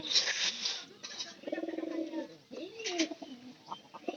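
Pigeons kept in a rural loft coo softly in repeated low, rolling calls, fairly faint, with a voice talking quietly at moments.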